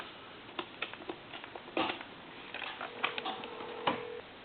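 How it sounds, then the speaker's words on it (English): A telephone number is dialed on a line during a repair checkout, heard as bursts of soft, quick clicks in short irregular groups, with a faint steady tone sounding briefly near the end. "what we're going to do is dial, say, a time and temp number"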